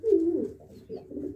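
Kalsira and Siraji breed pigeons cooing up close, a soft low throaty coo followed by a second quieter one after a short pause.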